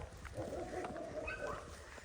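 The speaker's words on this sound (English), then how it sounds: "She's heard a little dog barking over there." Faint, distant yapping from a small dog in a Portuguese village, a few quick barks heard at low volume across a quiet background.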